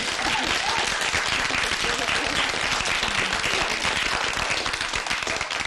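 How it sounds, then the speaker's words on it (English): A studio audience at a 1991 school quiz show gives the contestants a dense, sustained round of applause, loud and continuous for several seconds. "So give them a round of applause anyway."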